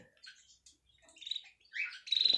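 A linnet sings beside its nest alongside a canary, giving a short run of bright chirps and twittering phrases that grow louder toward the end, close by and alone.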